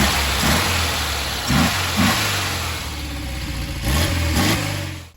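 A 1968 Porsche 912 engine runs close by with a steady mid-pitched drone, its revs swelling several times in short blips before settling back.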